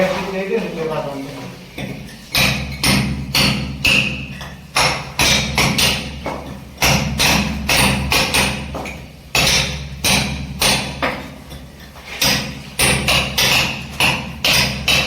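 A hammer smashes a marble kitchen platform, landing repeated loud, sharp blows in irregular bursts of rapid strikes with short pauses between them, close by and dominating throughout.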